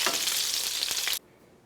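Italian peppers frying in a pan, a loud, bright, crackling sizzle held close for over a second, then cut off abruptly to near silence.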